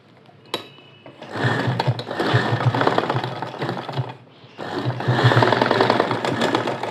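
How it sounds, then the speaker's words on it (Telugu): A sewing machine stitching the waist of a ready-made dress, running in two sustained bursts with a rapid mechanical chatter, close and loud, separated by a short pause. "ఇక్కడ పెట్టి ఇలా నడుము అనేది మనం స్టిచ్చింగ్ చేసుకోవాలి"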